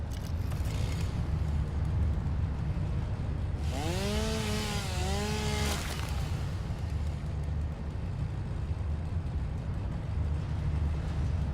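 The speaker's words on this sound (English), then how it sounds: "Chainsaw." A steady, droning chainsaw engine in the video game Satisfactory runs continuously throughout, with a brief rising and falling whine in the middle, under constant background noise.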